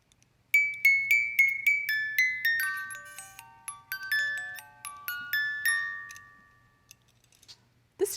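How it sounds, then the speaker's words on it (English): A tiny music box plinks out a bright tinkling melody of clear plucked tones, evenly paced and close by, with the notes slowing toward the end before a brief bump closes it. "Here's a tiny little music box."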